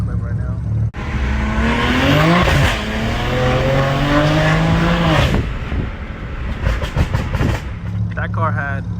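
A full bolt-on, rear-wheel-drive BMW 335i engine revs hard and rises in pitch, loud and close, with tire squeal and a voice talking over it in places.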